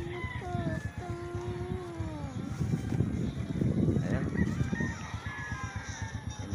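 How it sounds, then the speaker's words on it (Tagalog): A flock of birds calls at once, honking and squawking in overlapping cries close by, with a brief spoken word at the start. "Maganda rin ito, maraming ibon."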